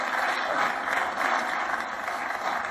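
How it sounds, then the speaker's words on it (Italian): Audience applause of encouragement, a steady wash of many hands clapping at even loudness throughout, with no talking over it. "Facciamo un bel applauso di incoraggiamento al signore."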